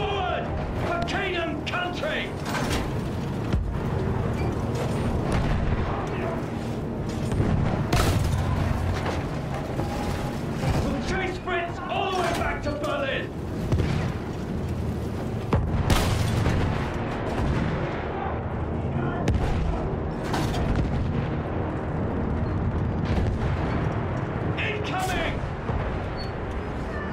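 Heavy World War I battle in Battlefield 1 with booming field gun artillery fire and scattered gunshots, loud and continuous over a long stretch, with shouting voices mixed into the din.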